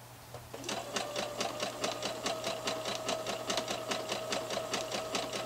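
A sewing machine runs steadily, stitching sweatshirt seams with a zigzag stitch in a fast, even rhythmic whir that sits close and alone for the whole stretch.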